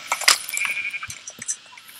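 Sheep bleats from the modded Minecraft pack Crazy Craft, a few short clipped game cries over a busy bed of clinks and effects, fairly close and moderately loud, with no talking.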